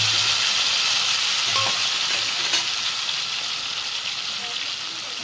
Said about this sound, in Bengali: তেলটা গরম হয়ে গেছে বন্ধুরা, এবার এই মাছটা এটাতে দিয়ে দেবো একলগে।